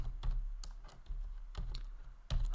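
Computer keyboard keys being typed while writing Python code, a few soft clustered clicks with short pauses between them, close and quiet, no talking.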